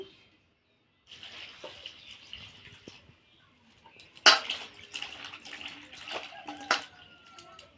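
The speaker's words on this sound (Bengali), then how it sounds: "কাটা হয়ে গেছে একটু ধুয়ে নেব" Cut cauliflower florets rinsed under running tap water in a bowl, with a steady splashing stream, brief pauses and a few louder clattering splashes as the pieces are moved.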